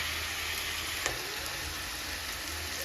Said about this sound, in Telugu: ఆనియన్స్ ఫ్రై అయిపోయాయి